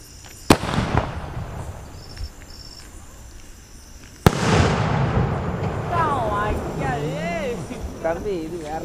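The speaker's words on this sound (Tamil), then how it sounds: "நான் தீபாவளி கிராக்கர் வந்து வெடிக்கிறேன்" Two sharp, loud Sivakasi Diwali firecracker bangs burst out several seconds apart over a steady hiss of insects, and people talk afterward.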